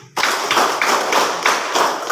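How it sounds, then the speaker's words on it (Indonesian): A class of students claps together in a classroom, steady rhythmic bursts of many hands beating roughly every third of a second, close and fairly loud with no talking over it. "Tepuk tangan untuk kalian semua."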